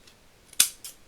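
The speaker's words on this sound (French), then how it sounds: "Je prends un plus grand ciseau" Large scissors snipping paper for an advent calendar craft, one sharp close snip followed by a fainter second cut in a quiet room.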